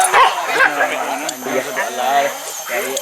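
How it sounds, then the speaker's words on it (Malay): Hunting dogs on a wild boar hunt bark and yip in quick repeated bursts close by, mixed with whining, while people talk over them. "Alah betul-betul anjing ni."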